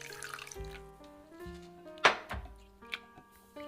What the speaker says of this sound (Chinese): 用清水洗净